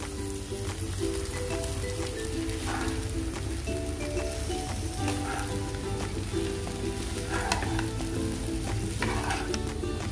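Poha sizzles and fries steadily in a hot pan, a continuous close crackle with faint stirring scrapes and no talking.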